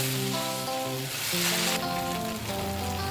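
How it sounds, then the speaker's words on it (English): Noodles and mustard greens sizzling as they are tossed in a wok for Malaysian vegetarian mee goreng, a steady close hiss running beneath background music. "The mustard greens go in. Give the noodles a toss, a turn and a tumble. Get them frolicking in the wok."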